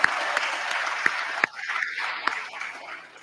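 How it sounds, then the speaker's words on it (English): Applause from the audience at a school sports awards ceremony for an award winner, a moderate steady clapping wash with a few sharper individual claps, thinning out partway through. "Let's give him applause."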